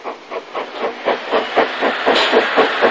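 A northbound train on the Somerset & Dorset line at Templecombe, climbing to a junction off the single line, with steady rhythmic clickety-clack and hissing steam close by, beats repeating about every quarter second and growing slightly louder.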